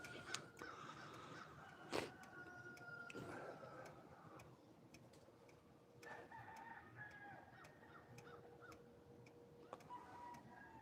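Crows caw repeatedly from some distance outdoors, short harsh calls mixed with roosters crowing in the background, fairly faint overall with occasional sharp ticks and clicks.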